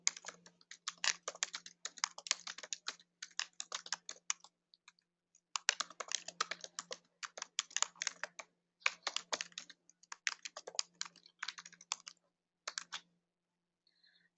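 Rapid typing on a computer keyboard while entering a group description in Zoho CRM, with close, crisp key clicks in several bursts separated by short pauses and no talking.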